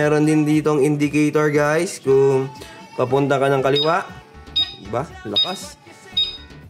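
A three-seater e-bike's turn signal indicator gives a series of short, high, evenly spaced beeps in the second half, mixed under a man's close, steady talking.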